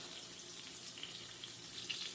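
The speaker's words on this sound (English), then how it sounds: "I did not need to put this much water in there" Water pours steadily from a kitchen tap into a cooking pot while mole is being made, a constant hissing rush with no talk over it.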